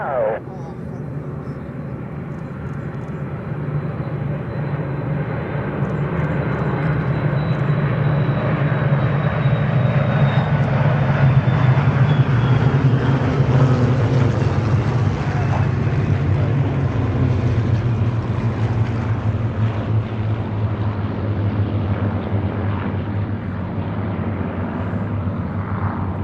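A fixed-wing airplane turns final to land with its gear down, a loud sustained engine drone that swells and slowly shifts in pitch while a voice talks over the radio.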